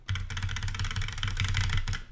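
Fast, steady clacking of keys on a Pop Keys mechanical keyboard at a desk, close and crisp, a continuous run of typing with no talk.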